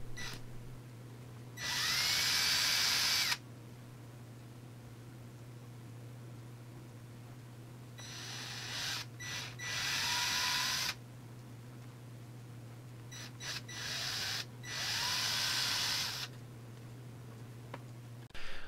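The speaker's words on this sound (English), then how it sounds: "I figured it actually might be easiest for me to just drill them out with a drill first" A power drill bores holes through sections of a handmade multi-jointed shad swimbait in three loud, sustained bursts, each lasting a second or two, with quieter ticking and handling noises between them over a steady low hum.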